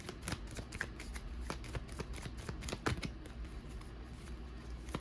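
Tarot cards being shuffled by hand close up, a quiet run of rapid riffling flicks and taps with no talking.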